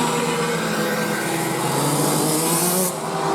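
A racing kart in a DD2/KA3 senior heat accelerates hard, its loud, continuous high-pitched engine drone holding steady close by, with no voices.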